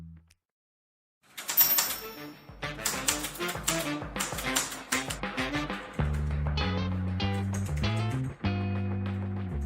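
Rapid clicking and tapping on a Fineday 3 full-aluminum Bluetooth mechanical keyboard with aluminum keycaps starts after a brief silence and runs on in quick flurries, with steady tonal music joining underneath partway through.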